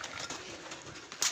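Pigeons coo softly while being fed wheat, low murmuring calls over a continuous rustling background, with a brighter burst of sound near the end.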